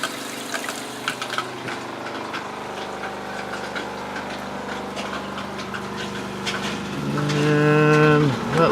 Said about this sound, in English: And you can also hear the pump running.